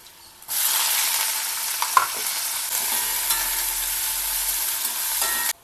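Sliced onions and green chillies fry in hot oil, a steady, close broadband sizzle that begins abruptly after a brief quiet start and holds evenly throughout, with a faint stir or clink near the two-second mark.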